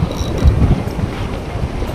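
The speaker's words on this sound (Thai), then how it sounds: "ตรงนี้ลมค่อนข้างแรงหน่อยนะครับ" Strong seaside wind buffets the microphone on a shore where squid fishing goes on, a loud, continuous low rumble with gusty surges and no talking.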